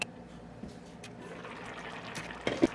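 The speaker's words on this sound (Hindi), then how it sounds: "अब इसके अंदर शामिल करेंगे गर्म पानी।" Hot water pours into a pot of chicken pulao in a home kitchen, giving a steady, close-up gush and splash that runs the whole time and swells briefly near the end.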